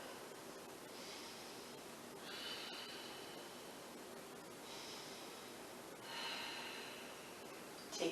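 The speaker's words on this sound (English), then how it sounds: "And breathe." Slow, deep breaths during a beginner yoga lunge in crescent pose, with two long airy exhalations rising softly out of a steady hiss, close to the microphone and quiet.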